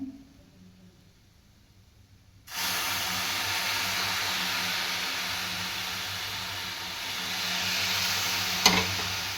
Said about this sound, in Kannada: ಫ್ರೈ ಆಗಲಿ ಚೆನ್ನಾಗಿ ತುಪ್ಪದಲ್ಲಿ ಫ್ರೈ ಆದರೆ ಟೇಸ್ಟ್ ಬರುತ್ತೆ